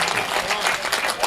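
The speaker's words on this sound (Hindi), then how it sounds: "ताली बजाइए तो पूरा मजमा मिल के बजाए" An audience at a mushaira poetry recital in Badnera claps in a dense burst of applause, close and loud, with a voice heard briefly over it.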